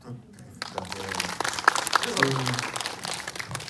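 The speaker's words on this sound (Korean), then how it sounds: "네, 박수 부탁드리겠습니다." Audience applause at a Busan International Film Festival guest visit screening, greeting the director and cast, rising after a quiet start and continuing steadily.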